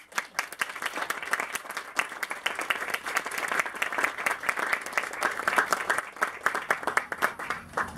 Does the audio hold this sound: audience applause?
yes